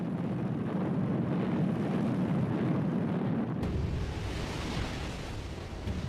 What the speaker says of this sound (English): To soften up Singapore, they attacked the city from the air.